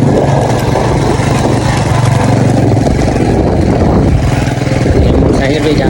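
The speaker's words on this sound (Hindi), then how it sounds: "ये मोटरसाइकिल चला रहे हैं" A motorcycle is ridden through a green Punjab village, its engine a steady, loud rumble that runs throughout, with someone talking over it.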